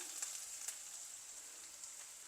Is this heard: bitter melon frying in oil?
yes